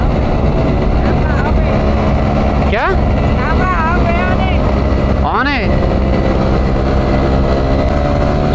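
A motorcycle engine runs at speed with a loud, steady roar and heavy wind rush throughout. Someone speaks briefly over it.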